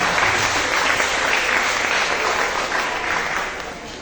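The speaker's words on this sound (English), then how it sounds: "Give them a round of applause." An audience at an awards ceremony for a storytelling competition gives a round of applause, a loud, dense and steady clapping that fills the room for about four seconds before it starts to fade.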